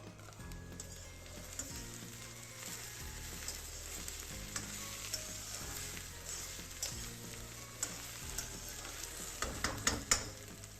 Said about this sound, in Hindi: फिर खोलेंगे, चेक करेंगे, हिला लेंगे।